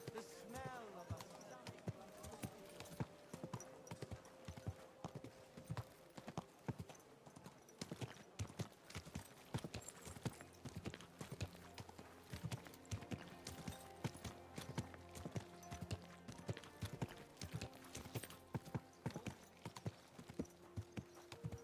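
Hooves clop at a steady walk on hard ground near a medieval inn in Kingdom Come Deliverance II, a long even rhythm of close footfalls, with townsfolk voices chatting in the background and a brief whinny.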